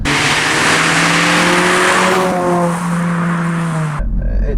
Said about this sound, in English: what I love about this exhaust is when accelerating full throttle, it isn't ridiculously loud